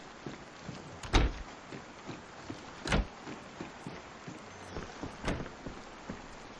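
Several heavy thuds of doors shutting in the video game DayZ, spaced a couple of seconds apart, over a constant rain-like hiss.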